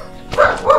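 A dog gives two quick barks, close and fairly loud, the second following just after the first.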